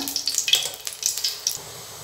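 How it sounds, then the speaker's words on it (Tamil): Two spoons of oil heating in a pan for parrupu urundai kuzhambu give off a soft, crackly sizzle with quick, uneven pops, close and steady. "இதுக்கு இந்த கரண்டியால் 2 ஸ்பூன் ஆயில் ஊற்றிக்கிறேன்"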